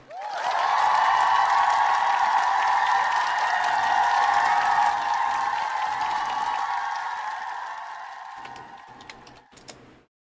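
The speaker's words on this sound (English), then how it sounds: "Let's clap it up." Steady clapping from an audience, sustained and fairly loud for about nine seconds before tapering off, with no talk over it.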